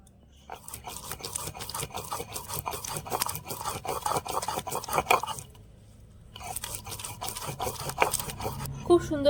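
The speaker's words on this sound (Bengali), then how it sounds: "এবার আমি পালং শাকটাকে বেটে নেব" Spinach is ground to a fine paste with a rough, rhythmic scraping and rubbing that runs continuously, breaks off briefly, then resumes close by.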